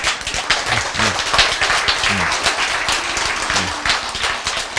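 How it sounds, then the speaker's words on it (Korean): A lecture audience claps dense and continuous applause for the full stretch, with a hall-like wash of hand claps and faint low thumps underneath. "여러분들 자꾸 박수 치는 거야"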